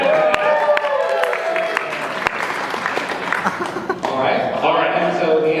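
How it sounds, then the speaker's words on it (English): An audience bursts into applause, a dense wash of clapping with some chuckles and scattered cheers, while a voice talks over it. "Give her a round of applause"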